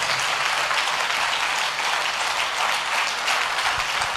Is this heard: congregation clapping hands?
yes